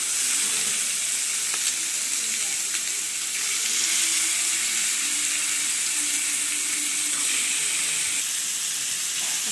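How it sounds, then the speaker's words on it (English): Vanjaram fish fries in a heated pan, a loud, continuous hissing sizzle that holds steady throughout, close up with no voices over it. "Pan is heated. I'm going to put the fish. I'm putting the fish."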